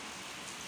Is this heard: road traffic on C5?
no